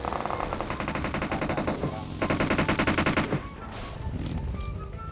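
Loud, rapid bursts of automatic gunfire in a duo-versus-squad shooter video game, with a long dense stream of shots, a short break, another sustained volley, then fainter scattered shots.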